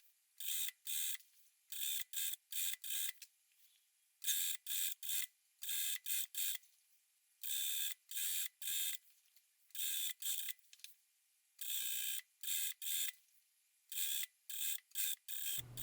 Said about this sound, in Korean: 오버록 처리한 프릴 밑단을 안쪽으로 1cm 접어 박아줍니다.